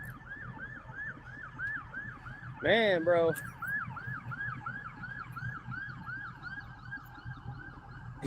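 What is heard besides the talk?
police sergeant's car siren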